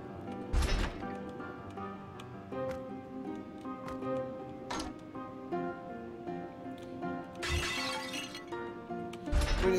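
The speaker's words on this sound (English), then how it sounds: "Excuse me, good sir, while I shatter all of your items around here" Items shatter and break in the video game Windforge, several sharp crashing bursts spread across the stretch, loud and close over a steady game music bed.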